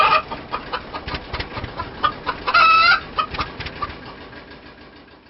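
A hen clucks repeatedly in short bursts, close by, with one louder drawn-out squawk partway through.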